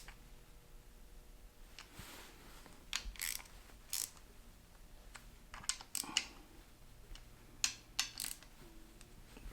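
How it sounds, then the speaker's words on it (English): A 10 mm ratchet tightening bolts on a camshaft guide in an engine, faint rapid clicking in short bursts with a few louder metallic clacks, close and quiet against a soft room background with no voices. "get your ratchet and then tighten it just like that"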